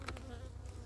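Honeybees buzz steadily at close range while a hive is split and transferred into another box, a dense continuous insect drone with no talk.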